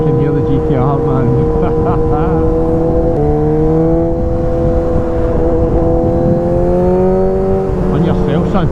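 A Nissan GT-R sports car's engine revs loudly and close by in a sustained droning howl that rises and falls in pitch, heard alongside a motorbike ride with wind noise.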